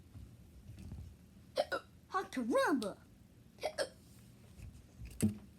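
A person hiccups several times, short sharp catches spaced a couple of seconds apart, mixed with exclamations and a voice close by.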